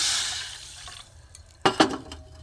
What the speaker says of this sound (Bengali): এখানে ওই মাপের এক বাটি জল দেব